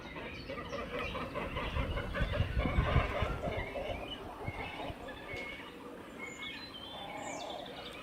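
Cormorants calling from a nesting colony in trees at Castle Water, a dense mix of guttural croaks and clucking calls layered over one another, fairly distant, with a low rumble of handling noise and background chatter.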